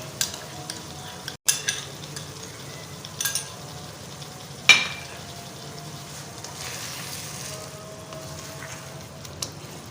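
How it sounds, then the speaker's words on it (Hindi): Chicken liver masala with beaten yogurt is stirred and fried in ghee, a steady low sizzle broken by occasional clinks and scrapes of a utensil against the pan. "तो दही डालने के बाद हमने इसको अच्छे से भूनना है ताकि ये घी छोड़ दे"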